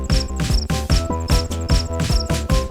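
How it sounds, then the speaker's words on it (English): A cricket chirp sample loops through a home-made music track, its bright repeated chirps riding on a steady beat with pulsing bass and tonal layers, recurring roughly every half second. "How could I forget about the crickets?"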